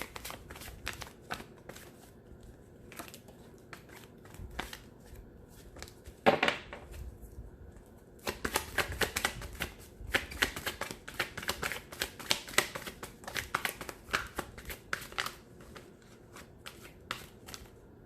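Tarot cards are shuffled and drawn by hand in close, crisp bursts of riffling and flicking. Sparse taps and slides come first, then a long, dense stretch of rapid shuffling, all in a quiet room without speech.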